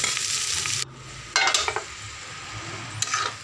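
Arbi (taro root) sabzi fries in oil in a pan, a steady sizzle broken by a spoon stirring and scraping the vegetables, with a couple of brief metallic clinks.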